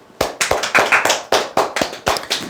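Clapping in a Korean sales-coaching session, about nine sharp claps in a loose, uneven rhythm, fairly close and loud, with no voices over them.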